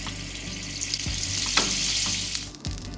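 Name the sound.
tuna searing in avocado oil and butter in a skillet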